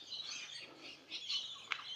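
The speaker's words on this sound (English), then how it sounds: "there's a lot of parrots and stuff apparently" Parrots call faintly among trees along a walking path in Innisfail, Australia, giving scattered thin, shrill chirps and one sharper squawk near the end over soft outdoor background.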